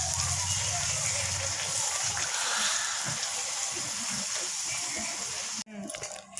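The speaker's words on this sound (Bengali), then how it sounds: "এখন তেল গরম হয়ে গেছে, আমি লুচিগুলো দিয়ে দিচ্ছি।" Luchi, small puffed flatbreads, sizzling in hot oil, a steady broad hiss and crackle running close and loud for most of the moment before breaking off abruptly near the end.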